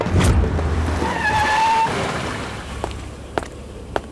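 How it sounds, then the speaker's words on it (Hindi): A car approaches at night in a South Indian thriller scene, with a low, steady engine rumble and a rising whine near the middle, followed by a few sharp clicks toward the end. "कोई गाड़ी तो आ रही है।"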